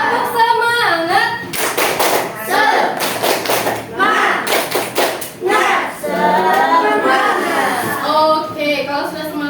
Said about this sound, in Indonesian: Bunda mau cek dulu semangatnya pagi ini. Tepuk semangat.